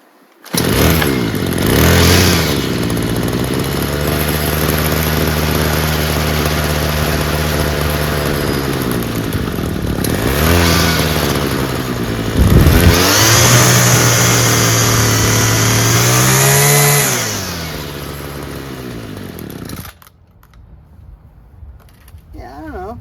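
A Homelite weed wacker string trimmer, a free unit being brought back to running, revs loudly and steadily for most of the stretch with pitch swells, then cuts out near the end; a voice talks faintly underneath.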